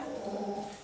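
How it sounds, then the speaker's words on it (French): A pet dog makes strange low growling noises close by, a steady rumbling grumble held for under a second. "Si vous entendez des bruits bizarres, c'est mon chien"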